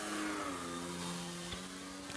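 The Draco electric motor of a Hangar 9 Valiant 6S RC plane throttles up for a go-around, a steady buzzing drone with layered harmonic tones that holds at moderate distance without talk.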